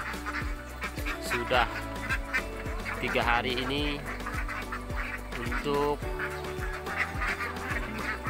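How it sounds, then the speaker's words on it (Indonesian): Several laying ducks, some losing feathers in a moult, quack repeatedly, fairly close, while a person talks over the flock. "Ini bebek saya"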